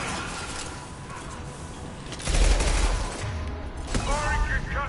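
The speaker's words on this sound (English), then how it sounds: "Firing concussive shot." A concussive shot fires in the video game Mass Effect 2, a heavy blast partway through followed by rumbling, layered battle gunfire that continues over an ongoing combat din.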